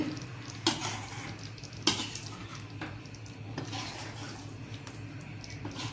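A spoon stirs chana dal dumpling curry bubbling in a pot, with gentle scrapes and a couple of sharper knocks against the metal over a steady simmering hiss.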